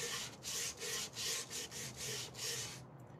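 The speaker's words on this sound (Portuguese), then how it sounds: "Eu vou lixar assim." Sandpaper rubs by hand on an MDF box in a quick, even back-and-forth rhythm of about nine strokes, close and soft, then stops.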